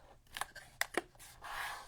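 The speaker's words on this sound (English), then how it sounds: "Might have to use scissors," Scissors snip through wallpaper in a few short, crisp cuts separated by brief pauses, close and fairly quiet, ending in a longer rustling slide.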